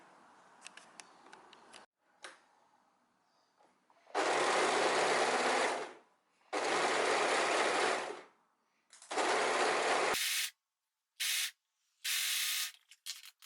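Several separate runs of a sewing machine stitch the back seam of a top, each a loud, steady whir of a few seconds with silent pauses between, ending in short clipped bursts.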